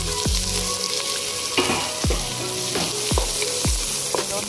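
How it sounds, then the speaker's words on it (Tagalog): Onion sautés in hot oil for a lamb biryani, loud continuous sizzling with a regular series of deep knocking stirs as the spoon strikes and scrapes the pot. "Luto lang natin ang onion hanggang mag-golden brown."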